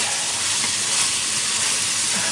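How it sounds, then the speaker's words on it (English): Marinated beef sizzles in a pan on a stove turned up to boiling heat, a loud, steady hiss with no pauses and no voices. "allowing the meat to simmer in its juice"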